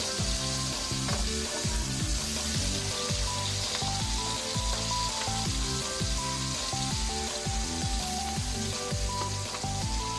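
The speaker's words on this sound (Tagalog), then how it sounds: "halo-haloin na lang natin guys ang ating nilulutong ulam" A home-cooked dish being stirred in a pan, with a steady loud sizzle running throughout and rapid rhythmic scraping and ratcheting clatter of the utensil, close and continuous.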